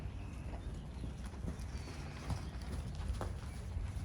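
Horse hooves clip-clop at a steady walk during a summer riding lesson, moderately close and fairly quiet, with a few louder footfalls and no voices over them.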